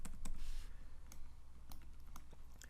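A few crisp keystrokes on a computer keyboard while working in AutoCAD, with sharp isolated clicks spaced irregularly over a quiet low hum.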